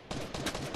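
Rapid burst of several gunshots in a battle royale video game, loud close cracks fired in quick succession within under a second.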